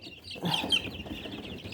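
Chickens clucking softly nearby, a few short clucks and chirps over a low rustling background.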